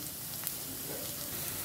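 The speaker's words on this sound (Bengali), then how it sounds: "এটাকে আমি আরও সুন্দর করে ভাজবো, যে একেবারে ক্রাঞ্চি হয়ে যাবে চিংড়িগুলো।" Shrimp fry in a pan, cooking until crunchy, with a faint, continuous sizzle and crackle and occasional tiny pops, steady and quiet, with no voices.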